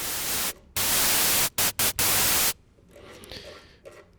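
Synthstrom Deluge synth voice built from its noise oscillator alone: loud bursts of hissing white noise, a long blast, several short choppy gated hits, then a fade to faint low hiss.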